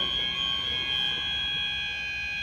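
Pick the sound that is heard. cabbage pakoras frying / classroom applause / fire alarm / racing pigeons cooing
fire alarm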